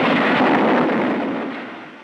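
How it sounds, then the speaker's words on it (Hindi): A car bomb explosion sound effect from a 1970 Hindi film: one loud, close, broad roaring blast that rumbles and slowly fades over two seconds, with no voices. "विक्रम की गाड़ी में बम रखा हुआ था। एक धमाका हुआ और गाड़ी के परखचे उड़ गए।"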